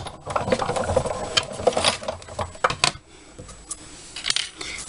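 A die-cutting machine feeds a piece of card through with a die to cut a cloud-shaped top, giving a close, steady mechanical clatter of rattling clicks and knocks, with a brief lull partway through.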